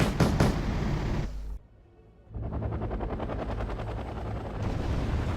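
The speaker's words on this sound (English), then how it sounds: "Four 20mm cannons." Rapid 20mm cannon fire from a Hind helicopter gunship in the WarGame strategy game: a loud, harsh burst, a brief drop to quiet, then a long sustained rattling stream of rounds with heavy low rumble.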